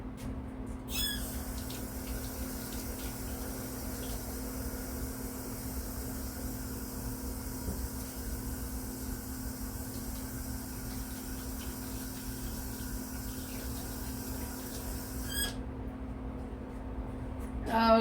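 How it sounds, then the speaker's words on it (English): Tap water runs steadily into a kitchen sink while hands are washed during home cooking of meatloaf, a constant close rushing hiss that starts and stops cleanly, with no talking over it. "I'm gonna wash my hands."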